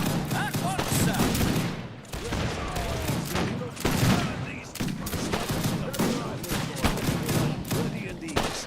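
Rifle volleys in Age of Empires 2 Definitive Edition, repeated loud crackling bursts of massed musket-style gunfire in irregular rounds, with battle clamor and unit voice barks between volleys.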